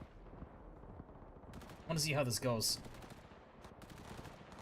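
Gunfire in the video game Cyberpunk 2077 crackles faintly in the background as a short automatic burst, while a person speaks over it in the foreground.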